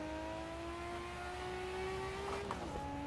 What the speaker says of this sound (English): listen to that engine noise though